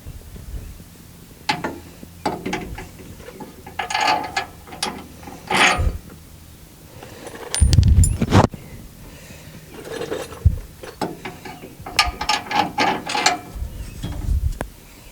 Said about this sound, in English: So we're gonna have to jack it up some more to get these suckers to fit.